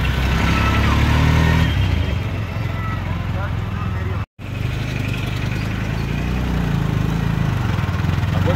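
Auto rickshaw engine drones steadily throughout a ride toward a bus stand, a constant close rumble with road noise and a brief dropout midway.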